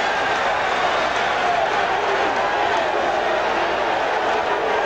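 A big baseball crowd at the Vet roars right after a called strike three in a 1994 Phillies vs St. Louis game, a loud, steady, dense wash of noise sustained throughout.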